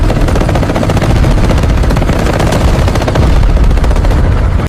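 Dense, loud battle gunfire from a tank and soldiers fighting giant titans in the Philippines: rapid continuous machine-gun bursts layered into a nonstop barrage that cuts off abruptly at the end, with no speech.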